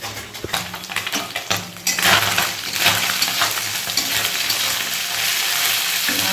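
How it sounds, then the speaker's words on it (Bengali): Small chuno fish frying in a pan, starting with scattered clatter from stirring and then opening into a loud, continuous close sizzle. "এই মাছ ভাজা হতে অনেক সময় লাগে"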